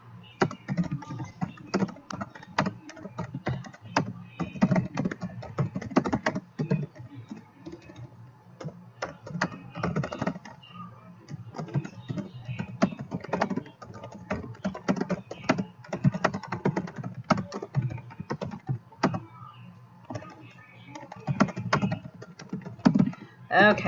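Typing on a computer keyboard during a committee meeting, bursts of rapid clicking keystrokes with short pauses between runs, close and fairly loud, no talking over it.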